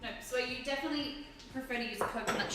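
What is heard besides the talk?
No everyday noise stands out behind the speech.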